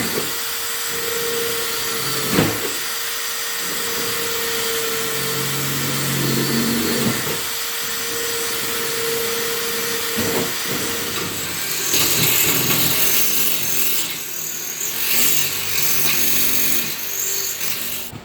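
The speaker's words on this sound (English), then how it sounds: "so now I gotta take a drill now, drill this out in the center of this" A power drill whines steadily against sheet metal in long runs, drilling out the center of a dent, with brief pauses between bursts and a harsher, hissing grind toward the end.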